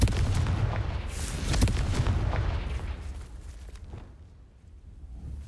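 A Confringo blasting spell in Hogwarts Legacy goes off as a loud, booming explosion with a sharp crack near the start and a rumbling tail that fades over several seconds.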